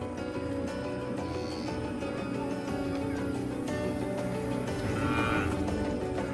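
Cattle low in the distance over a dense, steady outdoor herd ambience, with a few drawn-out moos rising above the background and no talking.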